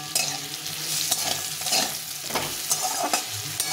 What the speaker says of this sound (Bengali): এখন আমি একটু সামান্য একটু হলুদ, একদম সামান্য একটু হলুদ দিয়ে দেবো আর একটু লবণ দিই। এটাকে আবার একটু ভালো করে ভেজে নেব।